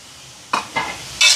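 Fried potato and brinjal are stirred in a hot pan with a spatula, giving three quick scraping, sizzling strokes over a faint background.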